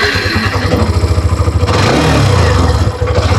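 A Hero Xtreme 125R motorcycle engine fitted with an engine cut switch runs close by with a loud, even putter, then revs up briefly and settles back to a smooth idle.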